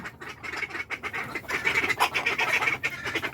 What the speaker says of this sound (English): a rooster and a duck going at it